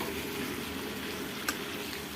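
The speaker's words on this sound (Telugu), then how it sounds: "జీలకర్ర వేసుకొని బాగా ఫ్రై చేసుకోవాలి." Cumin seeds fry in hot oil with drumstick leaves and garlic, giving a steady, close hiss of sizzling with one brief sharp click near the end.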